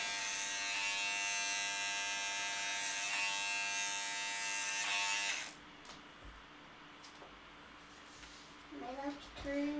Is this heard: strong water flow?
no